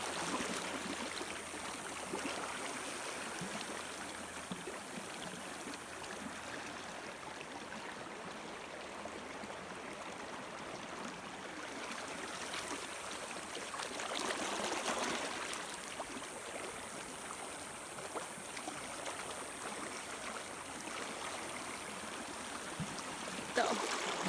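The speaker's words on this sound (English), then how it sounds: "I'm standing in a river." River water rushes steadily around someone standing in the current on a wilderness trail, a continuous close, broadband wash of flowing water with gentle swells and no voices.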